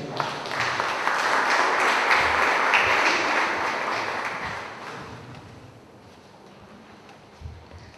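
Warm applause welcoming Dr. Víctor Guevara at a law lecture, a full hall of clapping that swells, holds for several seconds, then tapers away to near quiet.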